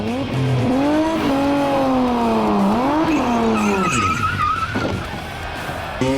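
A car's tires squeal long and loud as it skids around a skid pad, with the engine droning and revving underneath, continuous and close throughout.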